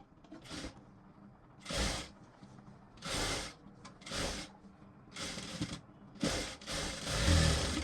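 A sewing machine stitching a dart blouse runs in about six short bursts of rapid whirring, separated by brief quiet pauses, close and fairly loud.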